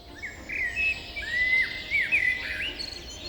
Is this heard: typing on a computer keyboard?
no